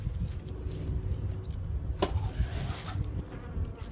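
Honeybees buzz at their hive in February, a dense steady drone of many insects close by, with occasional louder passes of single bees.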